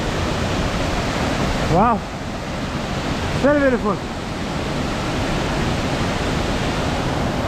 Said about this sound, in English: the second waterfall.